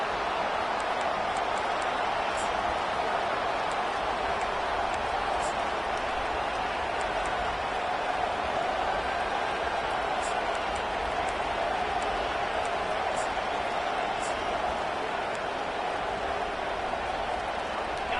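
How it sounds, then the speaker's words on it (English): Football stadium crowd at Michigan vs Ole Miss roaring in a steady, dense wash of cheering and noise that holds loud and constant throughout. "this crowd is fired up. Listen to this noise here."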